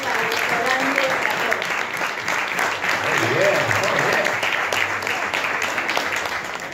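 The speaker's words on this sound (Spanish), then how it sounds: "Un aplauso para todo el servicio, para el hotel, para el restaurante" Applause for hotel and restaurant staff at a party for senior travellers at Finca La Vivi in Merlo, San Luis, a dense crowd clapping steadily and loudly throughout, with voices mixed into the noise.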